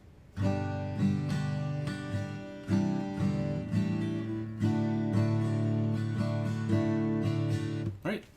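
An acoustic guitar strums a walk-down of ringing chords from a song, stepping downward, each change clear and sustained, played alone.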